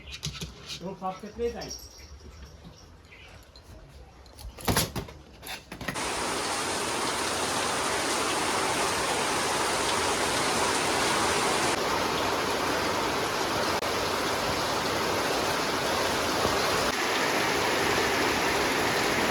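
After a few seconds of brief talk and scattered noises, heavy rain in Kolkata takes over as a loud, steady roar that continues without a break, flooding the street.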